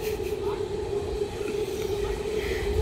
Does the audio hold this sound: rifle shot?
no